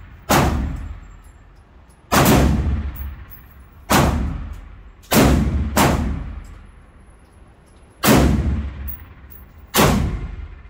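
A Ruger 57 pistol fires 5.7 rounds outdoors, seven sharp loud shots at irregular intervals of one to two seconds, each with a ringing decay.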